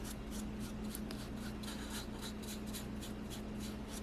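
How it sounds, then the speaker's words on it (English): A brush spreads Mod Podge over a paper mache box in a steady series of soft, close scratchy strokes, evenly repeated about every third of a second over a constant low hum. "just brush it onto the paper mache box"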